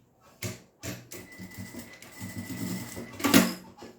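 Sewing machine stitching folded fabric for a clutch bag, a close run of rapid mechanical clicks with short pauses and a louder burst near the end.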